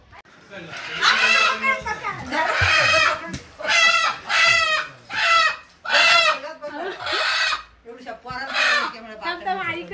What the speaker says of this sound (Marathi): चल चल चल कोंबडी पकडूया